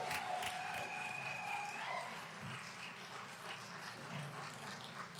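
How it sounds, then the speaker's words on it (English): Crowd applause and cheering for Chihamba at a Liberation and Freedom Day celebration, a steady, distant wash of clapping with scattered whoops. "One more round of applause for Chihamba."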